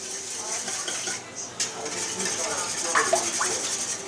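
Eight beaten eggs being whisked around in a pot for chocolate bread pudding, heard as close, steady metallic scraping and clinking of the whisk against the pot with faint background voice.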